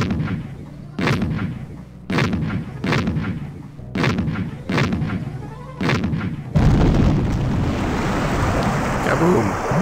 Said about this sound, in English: Oh, they're all noisy cannons.